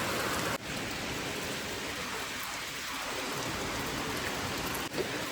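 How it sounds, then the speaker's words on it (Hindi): Heavy rain at night in the mountains, a dense, steady wash of falling drops on surfaces, continuous and fairly loud with no voices. "तो अभी हो रही है यहाँ पे बारिश और काफ़ी ज़्यादा बारिश हो रही है।"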